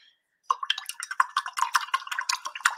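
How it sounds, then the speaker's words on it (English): A paint brush is rinsed in a water jar, giving a quick, close, faint run of light taps, clinks and watery swishes after a brief silence. "I'm going to go ahead and offload my brush and give it a slight rinse."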